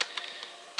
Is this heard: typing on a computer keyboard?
yes